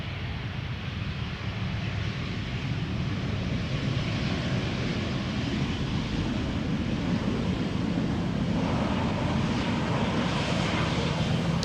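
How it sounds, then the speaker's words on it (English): An EasyJet A320 airliner arriving at Amsterdam Schiphol Airport from Bristol roars steadily with a broad engine rumble and wind rush that holds for several seconds, moderately distant. "This is EasyJet flight 22921 arriving from Bristol, an A320"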